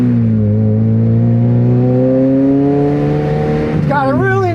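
Stock-exhaust sports car engine accelerating with the windows down, a loud steady drone rising smoothly in pitch as it pulls, then a brief shift near the end.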